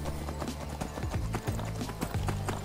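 Horse hooves clip-clopping in a fast, steady gallop rhythm within a video game, close and loud, with repeated thudding beats throughout and no talking.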